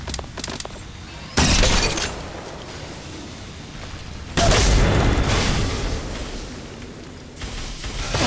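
Frag grenade detonations in Apex Legends Mobile, two loud booming bursts with crackling debris in a busy game soundscape, the second blast heavier and trailing off slowly.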